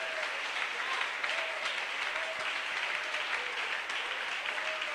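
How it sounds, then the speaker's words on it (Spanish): Steady applause from a church congregation fills the whole stretch, dense and even, with faint tonal sounds drifting through. "Usted puede dar un aplauso al Señor Jesucristo por esa revelación."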